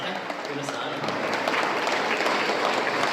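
A crowd claps in sustained, dense applause at the close of a talk by a noted orator during a Varamahalakshmi puja gathering in Dubai, loud and continuous from start to finish.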